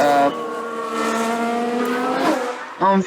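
Formula 1 race cars in the F1 Manager video game at the Paul Ricard circuit, with steady high-pitched engine whine that rises in pitch, then cuts off briefly before a loud burst of engine noise near the end.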